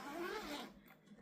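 A zipper on a cross-stitch project bag or case is drawn shut in one smooth, close rasping pull lasting about half a second, then the sound fades into quiet room tone.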